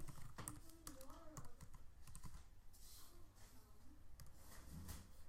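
Keys clatter on a computer keyboard in quick, uneven bursts while text is entered into a shared online document, close and fairly quiet, with faint speech-like tones and no clear talking.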